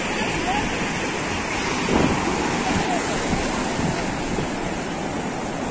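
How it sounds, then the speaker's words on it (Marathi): Sea waves wash onto a sandy beach beside a hill at Bhandarpule on the Maharashtra coast, making a steady broad roar with a slight surge midway, mixed with wind and faint background voices. "लाटांचा आवाज तुम्हाला येत असेल."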